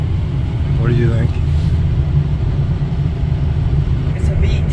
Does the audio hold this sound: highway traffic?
yes